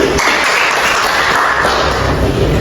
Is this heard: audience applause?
yes